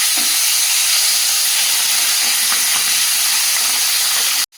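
Small river fish such as puti and chela dropped into a hot frying pan, a loud, dense, continuous close sizzle that cuts off abruptly at the end, no talking.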